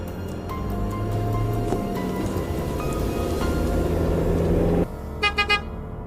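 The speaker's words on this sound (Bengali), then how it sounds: "বাড়ির বাইরে গাড়ির হর্ন শুনে" A car horn sounds outside a house as a sound effect in a Bengali horror audio story, heard as a few short toots over a steady engine rumble, ending in a quick pair of honks.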